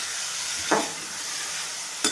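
Peas and rice frying in oil in a cooking pot, a soft steady sizzle with two brief stirring scrapes, faint and close.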